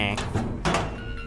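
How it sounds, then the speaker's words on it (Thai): A locker door in a horror video game clanks open and then shut again in two quick bursts, with a voice murmuring over the sounds. "เราเปิดเข้าออกล็อกเกอร์นี่คือเสียงดังมากเนี่ย"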